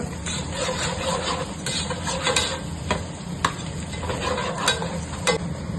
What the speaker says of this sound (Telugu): ప్లస్ కరివేపాకు వేసుకొని ఒక 2 మినిట్స్ ఫ్రై చేసుకున్నాక